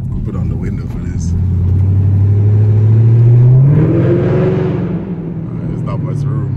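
A Chevrolet Camaro ZL1 engine roars at full throttle, its note climbing steadily to a loud peak before dropping back, heard from inside the car with people talking over it.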